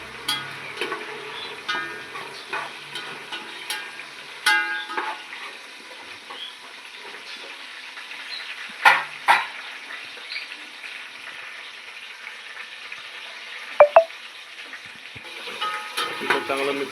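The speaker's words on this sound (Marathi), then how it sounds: "थोडी मिरची ना काळा कलर यायला पाहिजे, जरासा थोडीशी ड्राय व्हायला पाहिजे, तोपर्यंत आपल्याला फ्राय करायचं आहे." Puffed rice chivda with chillies frying and being stirred in a pan, a soft continuous sizzle with scattered scraping stir strokes and a few sharp clinks of utensil against the pan, no talking.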